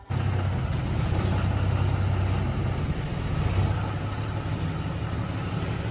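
A John Deere 5310 tractor pulling an old trolley runs its diesel engine with a steady, loud low rumble that stays fairly even for several seconds, with no talking.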